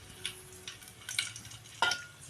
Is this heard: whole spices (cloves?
yes